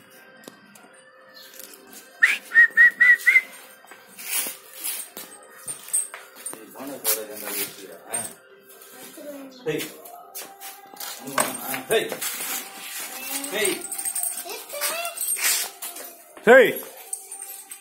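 A five-month-old male Kanni dog lets out a brief high whimper amid rustling, handling noises and people talking nearby.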